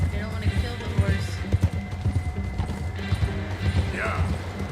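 Horse hooves gallop in the Red Dead video game, a fast, low rhythmic pounding under game sounds, with someone talking over it.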